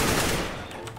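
Automatic gunfire from the video game Counter-Strike: Global Offensive during a matchmaking round, a quick rattling burst of shots that fades after half a second.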